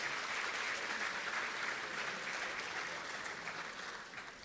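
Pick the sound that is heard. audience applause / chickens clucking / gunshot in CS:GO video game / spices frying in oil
audience applause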